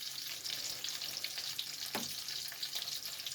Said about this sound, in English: I'm just cooking these in lard and bacon grease.